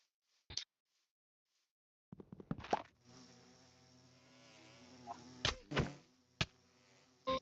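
Bees in the video game Minecraft give a sustained, even buzz for several seconds, with scattered sharp clicks and knocks before and after it and no voices.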